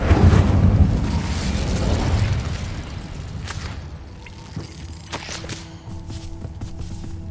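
In Hogwarts Legacy, an Incendio fire spell bursts out with a loud roaring whoosh that fades over about two seconds into quieter game ambience, where a few faint clicks and taps follow.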